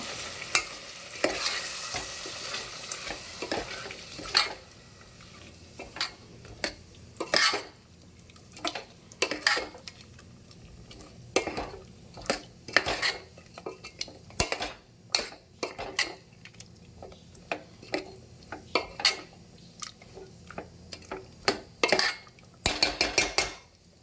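Chicken curry being stirred in a pot, with spoon scrapes and clanks against the metal sounding in irregular bursts over a soft background sizzle, no voices.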